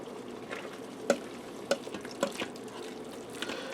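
Elbow macaroni with leftover liquid is stirred in an Instant Pot, giving soft wet, sloshing and scraping sounds with a few light knocks against the pot, fairly close and moderate in level.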